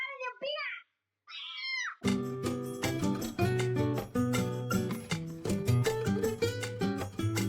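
A cat gives two short meows close by, then loud music starts and continues to the end.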